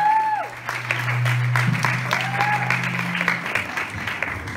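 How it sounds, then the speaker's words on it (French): Applause from the audience at a singing contest's evening show, a steady spread of clapping throughout, mixed with the tail of sustained music tones and a brief vocal sweep early on. "Accueillir Laurine sous vos applaudissements"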